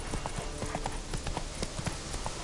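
Hooves of Roach, Geralt's horse in The Witcher 3, in a quick rhythmic clip-clop gallop, steady and continuous under game ambience, with no speech.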